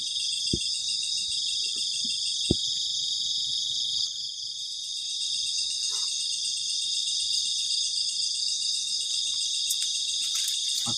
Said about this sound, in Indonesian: ketika malam suara jangkrik itu kenceng banget